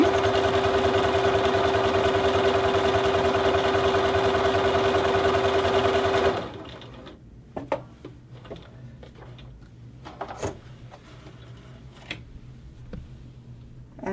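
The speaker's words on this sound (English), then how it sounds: "I'm just going to push down on the foot, make sure that the machine remembers what it's doing." Sewing machine stitching a buttonhole on scrap fabric, a steady close mechanical whir for about six seconds that stops abruptly, followed by quiet soft clicks and handling noises.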